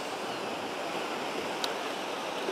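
Sea waves wash between rocks on the shore at Saltwick Bay, a continuous broad rushing surge heard close and fairly loud, with a brief splash or click partway through.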